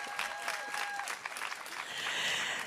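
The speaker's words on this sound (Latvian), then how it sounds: "Grandiozas ovācijas!" An audience at a youth political ideas event bursts into applause, a steady patter of clapping heard from a distance at low level, with a brief tone briefly audible at the start.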